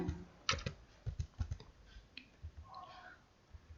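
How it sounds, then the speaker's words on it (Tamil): Someone types on a laptop keyboard while entering data, producing quiet, sparse clicks in short irregular bursts with small gaps between keystrokes and no talking. "ஸோ நான் லேப்டாப் அப்படின்னு டைப் பண்ணிக்கிறேன்"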